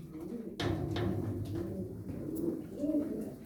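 Pigeons cooing inside a coop, a runaway blue pied bird among them, with soft repeated throaty coos layered close by and continuing steadily throughout.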